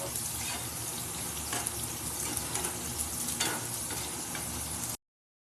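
Fish frying in a pan, a soft continuous sizzle and crackle with faint scraping of a utensil, fairly quiet throughout and no voices.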